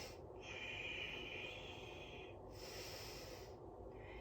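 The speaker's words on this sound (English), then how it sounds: "And I'm breathing in and out." Steady in-and-out breathing during an isometric bodyweight exercise in a prone position, faint and close, with soft airy breaths recurring over a few seconds and no talk.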